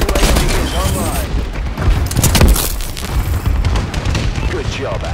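Heavy explosions from a friendly bombing run in the video game Call of Duty Advanced Warfare, booming and cracking in a dense continuous barrage, loud and close, with game radio voices over it.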